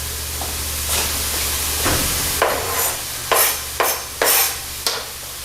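Peppers and garlic sizzle and hiss in a hot pan while stirred in several sharp bursts, loud and close, with no talking.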